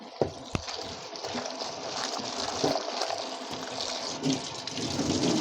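Running water splashes as wild mushrooms (hed phao) are rinsed clean of mud and sand, a continuous close gushing and trickling broken by a few sharp knocks and clatters.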